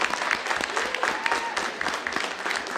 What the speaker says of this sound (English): let's say goodbye to the runner-up team and give them a big round of applause